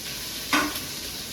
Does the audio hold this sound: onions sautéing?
yes